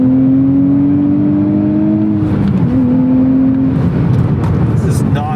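A 2023 Nissan Z's engine pulls hard with a steady rising drone, then a shift break and a renewed climb, loud and close, with faint clattering and background noise toward the end.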